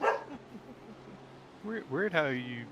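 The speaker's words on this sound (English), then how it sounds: "we definitely heard the dog" A dog barks in a quick burst of yelps near the start, then someone talks over a quiet room.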